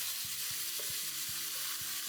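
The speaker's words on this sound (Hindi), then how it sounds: "थोड़ा सा चिकन सौते करके, थोड़ा सा प्याज।" Chicken and onion sautéing in a pan, with a steady loud sizzle and a regular series of soft spatula scrapes and stirs.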